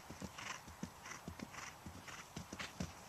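A horse canters under a rider during a schooling session, its hooves landing in a steady, repeated three-beat clip-clop, close and clear against a low background hum.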